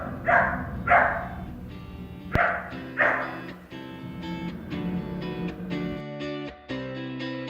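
Onyx, a young puppy, gives its first barks: a few sharp, close yaps, then a longer run of high whimpering, yippy barks that rise and fall.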